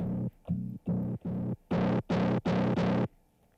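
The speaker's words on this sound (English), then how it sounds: "Distortion." A Zoom Sampletrak sampler plays a loop through its distortion effect: eight short, loud gated bursts, the first four buzzy and mid-heavy, the last four brighter and harsher, ending in a brief quiet tail.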